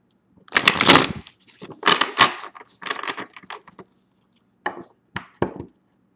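Tarot cards are shuffled by hand up close: a long riffling burst, then several shorter shuffling bursts, ending in a few quick separate slaps and flicks, with no talking.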